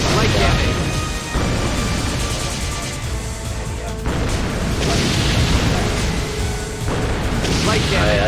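Heavy cannon fire in a naval warship game, dense booming crashes and blasts rolling continuously under overlapping voices of players talking.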